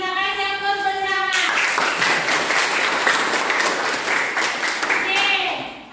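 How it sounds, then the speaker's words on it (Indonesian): A classroom group breaks into a burst of applause lasting about four seconds, dense, even clapping from many hands close by, with a voice speaking just before and just after it. "Kita kasih aplaus bersama."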